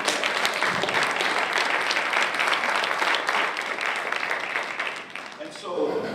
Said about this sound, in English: give these cats a good round of applause